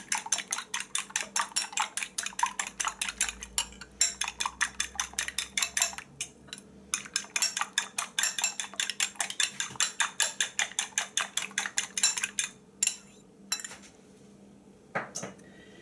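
Eggs are beaten with a fork in a bowl for an eggplant appetizer, a rapid, rhythmic run of close clicking strokes against the bowl with brief pauses, loud and alone.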